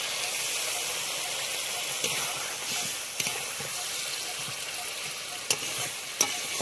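Potatoes sizzle and fry in a pan for a vegetarian dish, giving a steady crackling hiss with several sharp scrapes and clicks of stirring.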